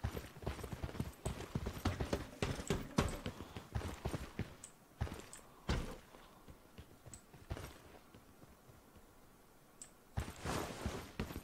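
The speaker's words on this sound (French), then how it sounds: "Moi j'ai des bruits de pas dans tous les sens" Footsteps in the video game Lost Light, irregular clusters of sharp taps and thuds scattered all around, some close and some faint, against quiet background noise.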